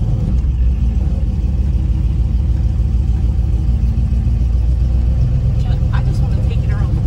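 A car engine tuned with a Holley Terminator X idles with a loud, steady low rumble that holds constant throughout, and voices talk over it.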